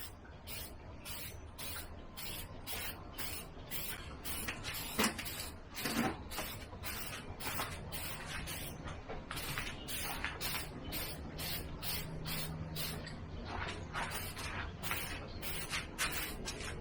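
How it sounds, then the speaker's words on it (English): A hand spray bottle mists hydroponic lettuce growing in mason jars, a steady run of short, sharp spritzes in quick rhythm, close and fairly loud over a low background hum. "now I'm just going to go ahead and spray it like this."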